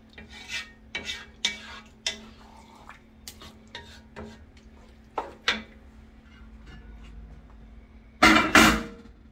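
A spoon stirs rice and chicken broth in a pot, giving separate scraping and clinking strokes at an irregular pace, then a louder, longer scrape near the end, with no talking.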